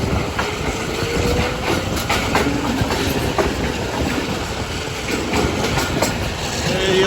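A slow economy-class passenger train hauled by a diesel locomotive runs between Gujranwala and Lahore in Pakistan. A steady, dense rumble carries rhythmic clickety-clack from the rails throughout, heard from inside the carriage.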